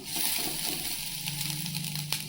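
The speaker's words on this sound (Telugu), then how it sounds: "ఇప్పుడు చూడండి, రైస్ వేసేస్తున్నాను." Rice poured into a pot of simmering carrot rice on a gas stove: a brief watery slosh and rush of grains hitting liquid, followed by a steady bubbling hiss, close and moderately loud.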